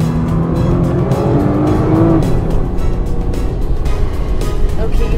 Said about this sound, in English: you get to really feel the turbocharger kick in, like here